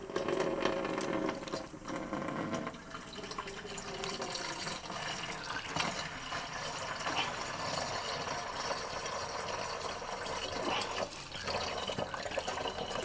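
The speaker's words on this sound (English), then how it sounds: "Alright, let's pour the water in." Water poured through a makeshift funnel cut from a plastic bottle into the water chiller of an RMLaser RM960 Pro Chinese CO2 laser engraver cutter, a steady splashing, gurgling flow that runs the whole time at moderate volume.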